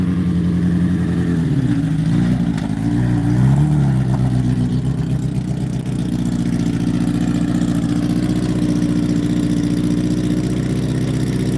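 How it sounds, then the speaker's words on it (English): Cammed race motorcycle engine idling loud and close with a lumpy, uneven rhythm, blipping briefly around the second to fourth seconds before settling back into a steady, rough idle with no talk. "it's a race bike, so he's got, that thing sounds cammed."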